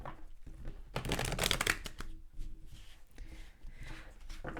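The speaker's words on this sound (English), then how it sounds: "So let's pull some tarot cards for you." Tarot cards are shuffled close by, with a soft, papery riffling and flicking that swells and fades in uneven bursts at a quiet level.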